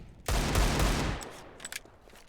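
Rifle gunfire in an esports video game match: a loud rapid burst of shots lasting about a second, followed by a few faint clicks and softer game sounds.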